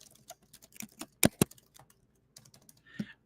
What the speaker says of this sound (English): They can type in their response.